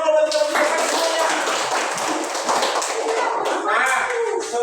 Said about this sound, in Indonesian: Beri tepuk tangan untuk memajukan semuanya.